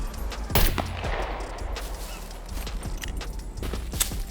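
An M249 machine gun fires in the SCUM video game, rapid shots cracking in short clusters amid rustling movement and footsteps, fairly close with no talking.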